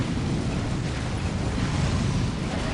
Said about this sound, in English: it's just general explosions everywhere